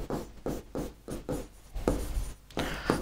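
Chalk scratches across a classroom board in quick repeated strokes as a sentence is written out during a Hindi grammar lesson, close and clear with short pauses between words.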